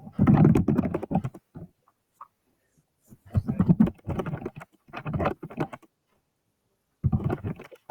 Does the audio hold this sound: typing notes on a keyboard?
yes